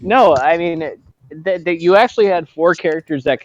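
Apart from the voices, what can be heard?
No distinct noise like a dog, phone or traffic.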